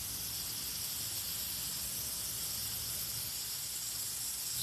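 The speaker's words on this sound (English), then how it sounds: "You can either watch me airbrush live like this" Airbrush spraying paint during a live session, a steady, faint airy hiss that runs evenly throughout without pauses.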